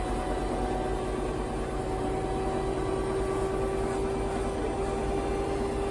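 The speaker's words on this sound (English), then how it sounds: "If you can hear that noise in the background, I'm just doing some washing, it's just the washing machine." A washing machine runs steadily in the background, a continuous low droning hum with a faint steady tone and no break, moderately quiet and heard alone without speech.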